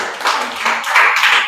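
A classroom of students gives loud applause during an algebra lesson, a dense, steady burst of many hands clapping at once, filling the short moment without talk.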